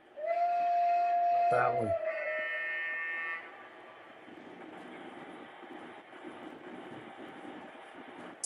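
A model train on a layout track sounds a loud whistle and horn blast up close, followed by a steady low rumble of running as a voice speaks briefly.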